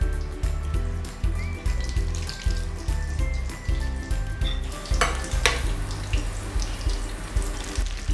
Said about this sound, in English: I'm going to deep fry them on low to medium heat until it becomes nice and golden brown and crisp